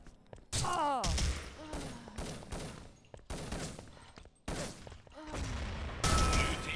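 Gunfire in a competitive shooter video game during a semi-final match, bursts of shots with thuds and rapid fire spread over several seconds, mixed with voices speaking between the shots.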